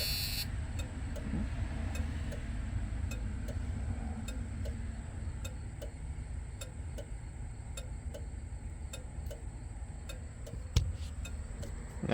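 A car's turn signal blinker ticks in a steady, regular rhythm of crisp clicks, close and clear over a low background drone, with one louder knock near the end.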